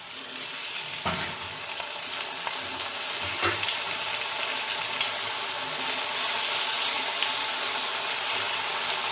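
Ginger and garlic paste frying with browned onions in a pan for prawn malai curry, a steady bright sizzle throughout with a couple of brief stirring clatters.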